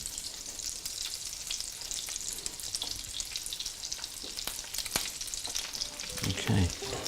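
Crab cakes fry in melted butter in a pan, giving a steady close sizzle and crackle throughout with a few soft scraping knocks near the end.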